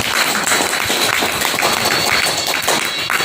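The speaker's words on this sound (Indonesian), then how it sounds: "Tepuk tangan dulu yang mulia" Applause from participants at a technical training session for marriage registrars, a roomful of hands clapping steadily and loudly throughout.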